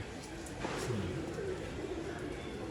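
Pigeon cooing softly at a bird sale in Bangalore, a single low rolling coo over a steady background hum, fairly faint with no clear speech.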